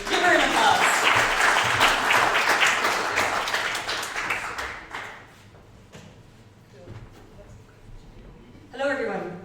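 Warm audience applause welcomes a speaker to a talk on the active Sun, a full dense burst of clapping that fades away over about five seconds. A quiet stretch follows, and then a voice begins speaking.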